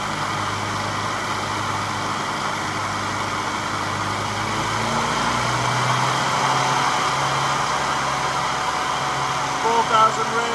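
Tuned 998 A-series road engine with an HS4 SU carburetor, SW5 cam, ported cylinder head and 3 ohm coil, held steady at 4,000 rpm: a continuous loud rushing drone with a faint engine hum, whose pitch lifts slightly partway through.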